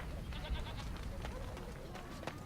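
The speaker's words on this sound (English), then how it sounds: "Goats." Goats in a fantasy role-playing game bleat faintly several times. The thin calls are buried in dense low rumbling ambience.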